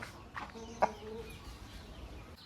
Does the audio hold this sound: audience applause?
no